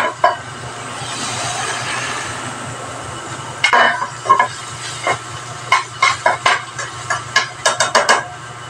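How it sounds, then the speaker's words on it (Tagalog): Eggplant, tomato, onion and garlic sautéing in a pan, a steady sizzle giving way to a run of sharp scraping and stirring clatters from about midway, close and fairly loud with no talk. "Unahin muna natin lutuin yung ano, yung talong, kamatis, sibuyas, bawang."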